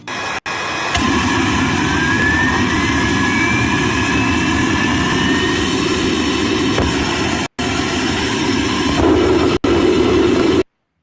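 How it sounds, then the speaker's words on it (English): A homemade afterburning turbojet engine running, a loud continuous roar with a rising whine throughout, briefly cut off twice and changing tone near the end. "build a functioning, self-sustaining, afterburning turbojet engine"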